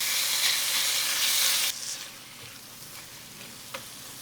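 Ground pork and garlic frying in a hot pan, a loud steady sizzle for the first part that drops abruptly to a quieter crackle with a few small pops, no voices.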